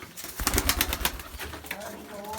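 Pigeons, including Tarçini birds, coo in soft, throaty bursts close by in a coop, a rapid run of calls followed by a few quieter ones.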